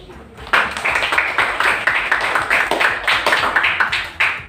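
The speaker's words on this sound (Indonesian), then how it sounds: "Tepuk tangan." A classroom group claps together in a fairly even, sustained round of applause indoors, starting abruptly and holding steady throughout.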